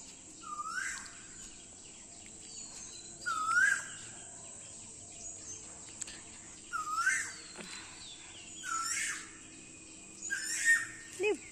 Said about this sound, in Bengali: প্রচুর পাখি। সকালবেলা এত ভালো লাগে।